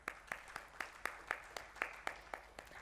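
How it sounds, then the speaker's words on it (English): Audience at an income tax and GST presentation claps in an even rhythm, about a dozen distinct claps in under three seconds, faint and fairly distant. "A big round of applause for her."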